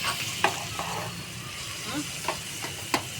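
Hot food on the stove is stirred with a spoon, which clinks and scrapes against the pot at irregular intervals over a steady sizzle and faint hiss, with a little background talk.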